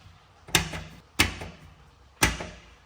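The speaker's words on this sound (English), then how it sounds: "Let's close the front door." A cabinet's front door on a home-built reactor enclosure closes three times, each a sharp, close knock followed by a brief rattle, with quiet gaps between.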